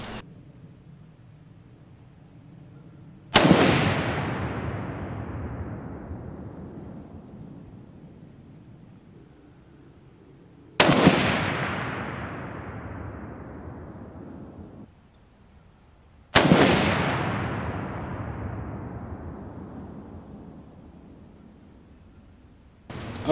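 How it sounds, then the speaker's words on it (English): Three loud Winchester M70 rifle shots fired outdoors, each a sharp crack followed by a long rolling echo that slowly fades, spaced several seconds apart. "let's get some shots through here and see what we've got now"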